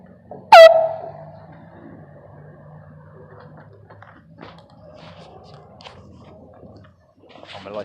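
An air horn sounds inside a Walmart store: one sudden, piercing blast that quickly fades, followed by faint indoor background noise.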